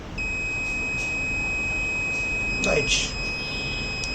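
An Arduino-based sensor system with UNO and NANO boards sounds its buzzer in a steady, high electronic tone that holds without a break, while a voice speaks briefly over it.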